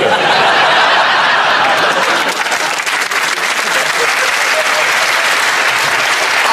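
A radio panel-game studio audience breaks into loud, sustained applause mixed with laughter and chuckles, a thick continuous clapping roar that holds strong throughout.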